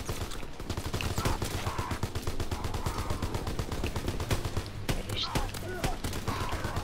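Rapid gunfire from an FG-42 in the Call of Duty Nazi Zombies game, fast repeated shots in continuous bursts at close range, mixed with other game sounds.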